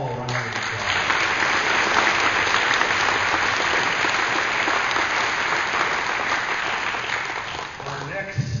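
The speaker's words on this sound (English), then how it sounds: "So give them all a round of applause." A crowd at a chamber of commerce awards event gives a long, loud, sustained round of applause for the people who helped organize it. The clapping is dense and steady, with a slight taper near the end.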